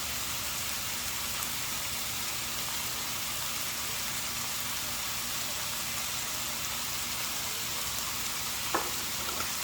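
Mushroom spaghetti sauce seasoned with garlic powder, salt and pepper sizzles in a pan, a soft steady hiss with a single faint scrape of stirring near the end.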